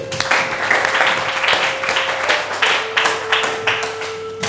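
Schoolchildren clap together in a classroom, a loud, close, continuous patter of many small hands with a few rhythmic bursts, over a steady electrical hum.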